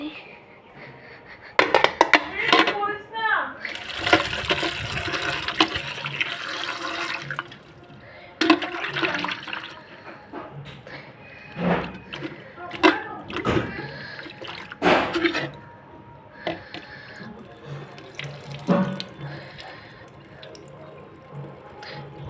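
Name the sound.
washing tomatoes in water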